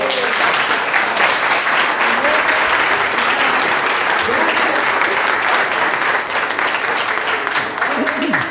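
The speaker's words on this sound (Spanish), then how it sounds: "Más fuerte este aplauso" A congregation in a Spanish-language church service breaks into loud, sustained applause, dense clapping holding steady for over eight seconds with faint voices mixed in.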